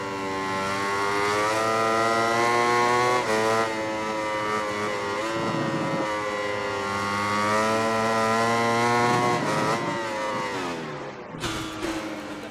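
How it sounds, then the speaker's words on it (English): Motorcycle engine in the racing game MotoGP 19, a loud continuous whine rising and falling through gear shifts and revs, with a brief dip and sharp transient near the end, no talk. "I'm just gonna let you hear the engine noise and the noise in general, the ambient sound."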